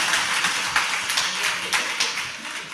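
Audience clapping at a Hindi religious sermon, a steady patter of many hands with recurring louder bursts, fairly close and continuous with no talking.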